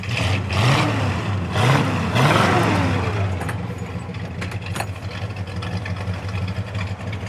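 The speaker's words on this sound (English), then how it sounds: "Good sound and dual exhaust." A 1967 Ford Fairlane 500 XL's factory 390 V8 with dual exhaust idles close by, a few throaty revs at the start before settling into a steady, burbling exhaust note.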